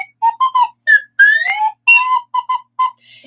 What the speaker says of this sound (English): I have a slide whistle my friend gave to me. It sounds like a circus.